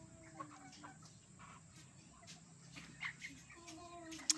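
Faint, scattered hen clucks and chirpy calls over a quiet background, with a sharper call near the end.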